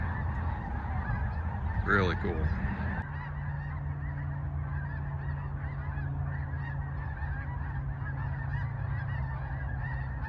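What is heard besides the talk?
snow geese honking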